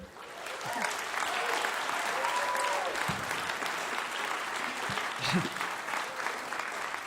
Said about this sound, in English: That was the applause from all the people sitting backstage listening.